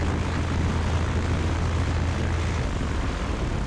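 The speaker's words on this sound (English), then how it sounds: "Idle check, you want to make sure the engine doesn't shut off." A small airplane's propeller engine drones steadily and loudly at idle during a run-up check, a constant close rumble with no talking.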